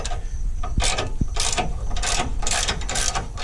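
Ratchet loosening bolts while fitting a bull bar on a 2014 Dodge Ram, close rapid clicking in several short bursts with metallic knocks, no talk.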